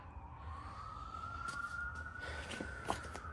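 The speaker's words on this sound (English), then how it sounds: "it sounds like an ambulance." An ambulance siren wails steadily in the distance, its tone sliding slowly upward over a low rumble of traffic, with a few faint clatters nearby.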